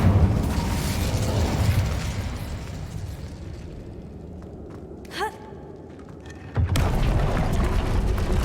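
An Incendio fire spell cast in Hogwarts Legacy, with a rushing, crackling blast that fades, a brief whoosh partway through, then a sudden loud burst of roaring noise.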